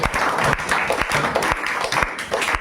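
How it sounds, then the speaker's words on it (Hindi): Applause for a prize winner at a school math test prize distribution for a Class 9 section, a room of hands clapping steadily at moderate loudness for a couple of seconds. "अब मारिए आप ताली दीजिए"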